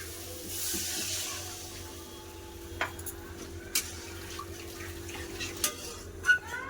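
Water poured into frying potato and spice masala brings a broad hiss, followed by a softer simmer with occasional clinks of a utensil against the pan.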